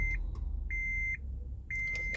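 A 2012 Honda Odyssey gives three clear electronic beeps at an even pace during key fob programming, each lasting about half a second, with quiet gaps between them.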